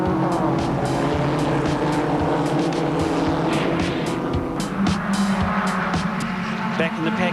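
A race car locks its brakes and spins over the curbs during a motor race at Pukekohe, with loud engine roar and tyre noise from the passing field under a commentator's continuous talk.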